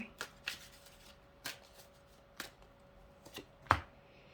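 Tarot cards are shuffled and slapped down in a quiet room, giving a series of short, sharp papery riffles and taps spaced irregularly, with one louder snap near the end; no one speaks.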